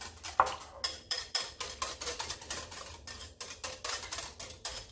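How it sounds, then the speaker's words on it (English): A utensil beats egg and stirs muffin batter with blueberries and white chocolate in a bowl, giving rapid rhythmic scraping and clinking strokes, close and steady, with no talking. "I'm just going to lightly beat the egg and get the ingredients to mix"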